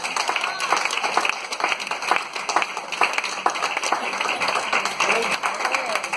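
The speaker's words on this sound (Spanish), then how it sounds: "Denle un fuerte aplauso a Cristo" A church congregation applauds Christ, steady dense clapping running throughout with a preacher's voice and crowd voices mixed over it.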